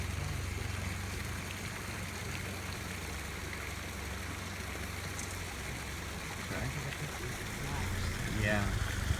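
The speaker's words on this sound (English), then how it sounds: "A nice little waterfall down there, trickling down." A small waterfall and stream trickle beside a road near the Poor House Tunnel in Lexington, Virginia, as a constant soft rushing hiss that swells slightly near the end, where a brief voice is heard.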